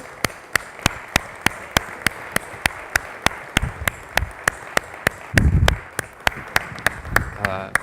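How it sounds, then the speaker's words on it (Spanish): Applause for a speaker at a talk on the property registry comes through as sharp, evenly spaced claps close to the microphone, steady in rhythm, over a soft murmur of voices with brief bursts of talk. "un fuerte aplauso"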